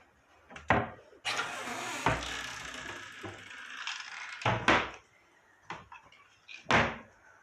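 Kitchen cabinet doors swing shut one after another, several distinct wooden thumps and clacks spaced across the stretch, close by, with some rustling and shuffling between them and no talk.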